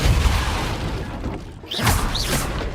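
A Depulso spell smashing objects in a dungeon in the video game Hogwarts Legacy, with a couple of sharp whooshing crashes and thuds following a low rumble.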